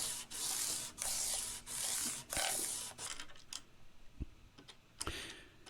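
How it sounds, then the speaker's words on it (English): A guitar fretboard being polished by hand with 400 grit sandpaper, close, rhythmic rasping strokes about once per second that soften into lighter scratches and small taps, heard alone. "And now I'm going to hit it with some 400 grit just to polish the fretboard a bit."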